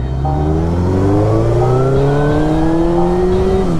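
A 2020 Ducati SuperSport motorcycle being ridden, its engine note a loud steady drone that slowly rises in pitch as it accelerates, with wind noise and no talk.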